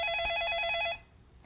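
A telephone rings with an incoming call during a stock-market call-in broadcast, giving a clear, steady electronic bell tone that repeats quickly for about a second before stopping, with quiet background hum afterward.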